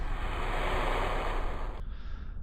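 Water on planet Eve in the Kerbal Space Program game washes as a steady surf-like hiss with a faint high tone, then cuts abruptly to a quieter muffled wash.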